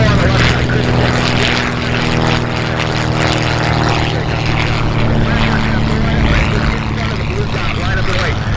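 A propeller airplane takes off at EAA AirVenture Oshkosh, its engine roaring loud and steady, close by for the whole stretch, with voices mixed in under the noise.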